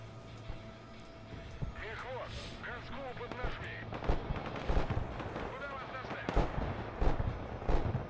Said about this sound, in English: So I'm going to bring in the proper artillery pieces.